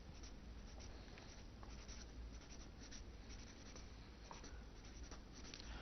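A pen scratches steadily across paper as irregular verbs are written out by hand, a faint, continuous rustling with no voices.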